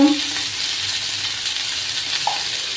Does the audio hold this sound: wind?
no